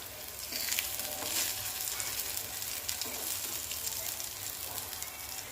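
Brinjal slices shallow-frying crisp in a pan, a continuous close crackling sizzle with a few soft scrapes as pieces are turned, fairly quiet and steady throughout.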